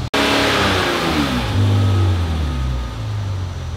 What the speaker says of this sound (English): Go give the engine a couple of revs